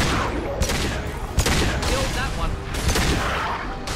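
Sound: gunfire in video game Mass Effect 2

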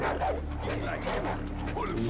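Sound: dog barking in a video game

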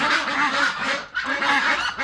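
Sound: ducks quacking on a large duck farm

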